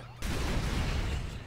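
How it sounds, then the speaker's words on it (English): A sudden loud burst of explosions in the video game Marvel Ultimate Alliance 3, a dense broadband roar that starts abruptly and holds steady across the moment. "Explosions!"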